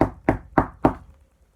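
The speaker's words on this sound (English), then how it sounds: "There was a knock." Four sharp, evenly spaced knocks on a door land about a quarter second apart, close and distinct, then silence.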